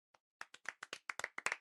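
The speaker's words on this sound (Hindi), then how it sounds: "बी, ताली बजाओ।" Roughly ten sharp hand claps from a group of classroom children, starting with one lone clap and then settling into a quick, uneven series that grows slightly louder toward the end, with no talking.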